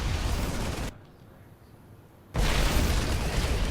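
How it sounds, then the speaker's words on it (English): A barracks bursting into flames and exploding in a StarCraft match, heard as a loud, dense burst of blasts and roar that cuts out abruptly to near silence, then comes back at full force. "Oh, the barracks is on fire."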